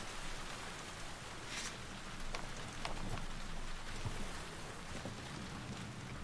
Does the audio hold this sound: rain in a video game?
yes